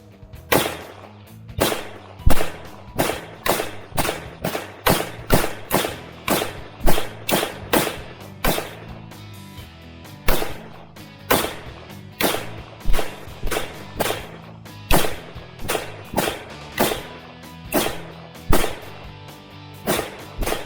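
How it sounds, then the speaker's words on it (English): AK-47 rifle firing at a watermelon, a long run of loud, sharp, close shots spaced roughly half a second to a second apart, sometimes in quick pairs, with no talking. "So we have the AK-47 versus the watermelon."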